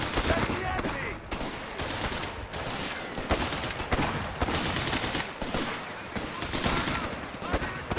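Dense, continuous gunfire from Stuka dive bombers with cannons in Company of Heroes 3, loud bursts overlapping in a steady fusillade with faint voices underneath.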